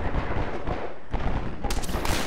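Gunfire in Half-Life 2: a dense run of rapid, crackling shots over a low rumble, then a sharper volley near the end, loud and close.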